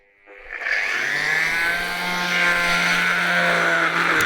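A repaired Imax blender motor after a bushing replacement starts up and runs steadily, a loud close whining hum with a strong tonal drone that holds level for several seconds, no talk.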